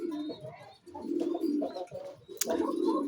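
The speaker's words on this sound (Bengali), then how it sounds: "উপরে কিছু মেয়ে কবুতর আছে" Pigeons coo in soft, repeated throaty phrases close by in a loft housing female and racing pigeons, with brief pauses between the calls and a short sharp click near the end.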